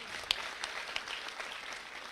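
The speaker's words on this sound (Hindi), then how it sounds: "ठीक कर दी तो ताली मारो जोरदार एक बार" Crowd at a political farmers' thank-you rally in Gohana clapping together in a loud burst of applause, with a sharp clap standing out early, then steady patter continuing throughout.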